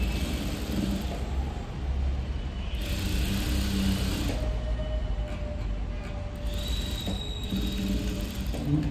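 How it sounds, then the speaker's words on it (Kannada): A sewing machine runs steadily, straight-stitching a princess cut blouse, its continuous mechanical whir broken by brief higher whines and rattling shifts. "ನೋಡಿ ಈ ರೀತಿ ನೀಟಾಗಿ ಸ್ಟಿಚ್ ಹಾಕ್ಕೊಳ್ಳಿ ಅಷ್ಟೇನೆ, ಸ್ಟ್ರೈಟ್ ಸ್ಟಿಚ್ಚು"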